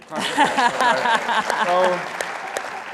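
A conference audience at ICBA LIVE 2023 claps their hands in a brief, lively burst lasting a few seconds, with a voice talking over the clapping throughout.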